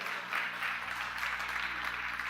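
An audience claps during a church sermon, a short burst of moderate applause that is fairly faint and distant and keeps going steadily, with no one talking over it.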